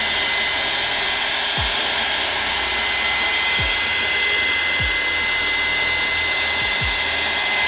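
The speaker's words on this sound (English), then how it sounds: "hit it with the heat gun just to see what kind of different effect it does" A heat gun blows a loud, steady whoosh of hot air over a spray-painted rolling tray, continuous and unbroken throughout with no talking, with a few faint low thumps underneath.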